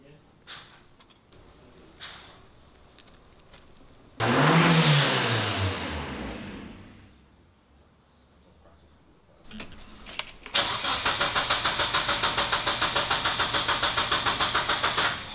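A turbo project car's engine cranks and catches, with short starter bursts, a loud roaring rev that fades, then a second cranking spell of rapid rhythmic turning, while people talk quietly in the pauses.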